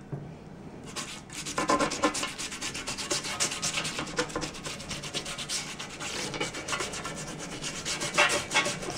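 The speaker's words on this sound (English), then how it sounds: "I'll get a brush to clean that up." Stiff old toothbrush scrubbing the grooves of a cast iron pan during restoration, a steady rapid bristle rubbing that starts after a second and continues unbroken and close, with no talking.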